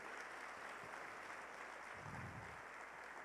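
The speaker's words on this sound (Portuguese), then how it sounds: "Você pode aplaudir o Senhor Jesus pelos feitos do Senhor?" A church congregation applauding during a sermon on prayer, a soft, distant and even wash of clapping held at a low, steady level for a few seconds.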